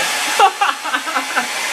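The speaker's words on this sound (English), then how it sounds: "this is my blow dryer I have, y'all. It's a Vital Sassoon" A Vidal Sassoon blow dryer runs with a loud, steady close-up whooshing hiss, its airflow fluttering slightly in pitch for the brief moment it is on.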